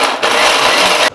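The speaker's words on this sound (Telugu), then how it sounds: "కొంచెం వేసుకుని మిక్సీ కొట్టుకుందాం." A kitchen mixer grinder whirs loudly for about a second while grinding coconut pieces, a harsh close burst that starts and stops abruptly.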